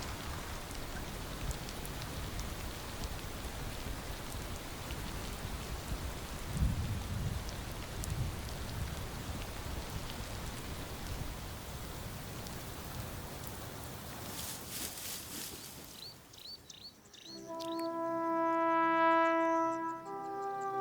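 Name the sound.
rain falling in the Serengeti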